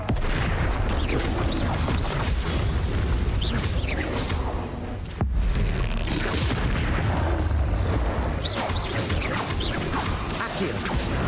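Repeated Confringo spell blasts from Hogwarts Legacy boom and crash through continuous combat noise, with whooshes and impacts and a sharp hit midway.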